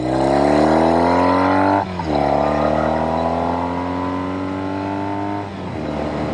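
A 1973 Norton 850 Commando motorcycle engine under way, a loud close harmonic drone rising steadily in pitch through the gears, with two brief dips at shifts.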